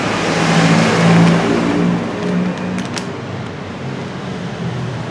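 A Bajaj 180 motorcycle engine runs at idle with a steady low drone and slight surging, close and fairly loud, with no voices over it.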